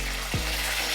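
Curry leaves sizzling in hot oil in a pan while making Marathi-style potato bhaji: a steady, close, crackling hiss fills the whole moment, with a soft low thump near the start.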